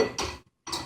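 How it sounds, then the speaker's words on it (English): A utensil stirs bobotie ingredients in a pot, making two short scraping clinks against the metal with a brief pause between them, close and soft. "you stir it just to like heat it up a little bit"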